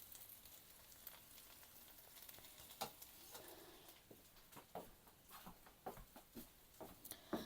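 Bacon and cheese pierogi pan frying, a quiet crackling sizzle with scattered sharp pops and spatters rising in the second half, close and fairly faint, no talking.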